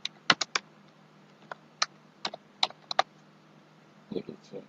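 A computer keyboard being typed on in Excel gives sparse, crisp key clicks in small irregular clusters over a quiet hum, ending with a few softer taps.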